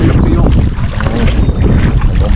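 Strong wind blows at sea near small fishing boats, loud continuous buffeting roar across the microphone with gusty surges.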